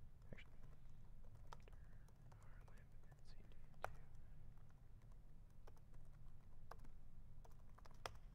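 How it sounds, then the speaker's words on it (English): Typing on a computer keyboard at a desk, a steady run of quiet, close key clicks over a low background hum, with soft breathy whispering under it. "Nothing more interesting than sitting watching someone type on a keyboard"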